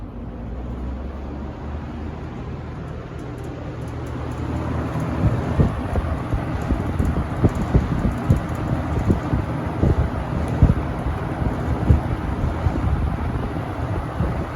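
A vintage 1979-80 Galaxy 6708 box fan running, a steady broadband whooshing airflow with a low rumbling hum and fluttering texture that grows slightly stronger partway through, close and continuous.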